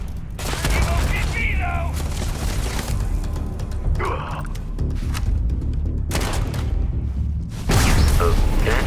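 Shotgun fire in the video game Starfield: loud, dense game combat with repeated heavy blasts and booms over a busy background, and some voices mixed in.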